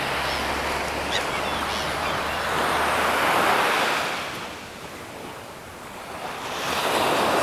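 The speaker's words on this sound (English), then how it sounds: "the noise of the sea." Sea waves rolling in at Punta Piedra, Tulum, on an early sunrise morning: a steady, broad wash of surf that swells and eases, with some wind across the microphone and no voices.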